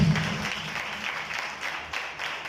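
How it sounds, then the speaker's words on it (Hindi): Audience applause at a Pentecost church gathering, a dense, steady wash of clapping from many hands that fades slightly across the short stretch, with no voices on top. "यीशु मसीह के लिए जोरदार तालियां, पाक रूह के लिए जोरदार तालियां।"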